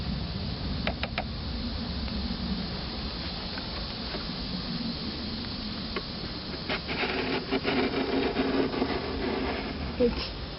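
Metal hive tool rasping sticky propolis off the wooden frames and boxes of a beehive during an outdoor hive inspection, a steady close scraping texture with irregular sharper strokes, while people talk in the background.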